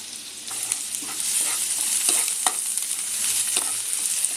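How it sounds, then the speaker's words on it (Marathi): Sliced onion with ginger-garlic paste fries in a spoonful of hot oil in a kadhai, giving a steady bright sizzle with a few scraping stirs of a spoon. "कांदा आपण चांगला फ्राय करून घेऊया"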